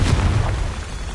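A spell explosion in the Hogwarts Legacy video game, one heavy booming blast that fades out over about a second, loud and deep with no talking.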